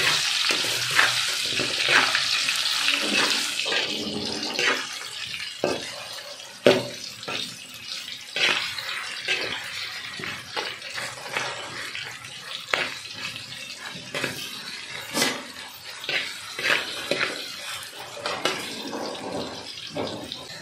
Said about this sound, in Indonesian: Masih masak bawang putih, bawang merah. Aduk-aduk.